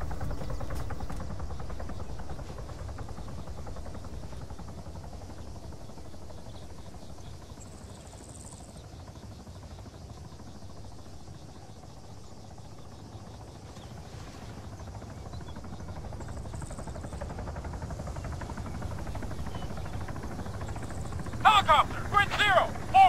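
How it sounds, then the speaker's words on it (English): Helicopter in the video game Arma 3 droning at a distance, a faint steady rotor hum that holds low and even, with a brief burst of sharper noise near the end. "Helicopter!"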